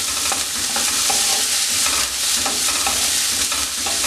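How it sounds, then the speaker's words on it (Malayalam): Sliced onions sautéing with salt in a pan: a loud, steady sizzle with continuous stirring scrapes running throughout, and no one speaking. "സവാള നല്ലതുപോലെ ഒന്ന് വഴറ്റിയെടുക്കാം."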